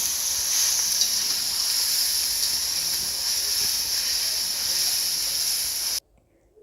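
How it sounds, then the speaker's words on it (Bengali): Chillies and onions fry in hot oil while being stirred, giving a steady close hiss and sizzle that cuts off abruptly near the end, no talking. "মরিচ পেঁয়াজগুলো এখন ধীরে ধীরে এগুলো নাড়তে হবে ভালোভাবে যাতে পুড়ে না যায় চারপাশে"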